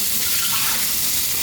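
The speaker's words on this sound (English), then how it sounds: "I don't need the water in there" Water from a pot of potatoes is poured off in a continuous loud gushing rush, close and steady throughout with no talking.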